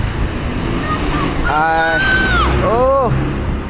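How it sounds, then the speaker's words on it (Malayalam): A bus passes on a village road in Edava, a loud rumbling traffic wash with a rising and falling tonal whine or horn midway, and a brief voice exclamation over it. "ബസ്സിൻ്റെ ബഹളമാണല്ലേ"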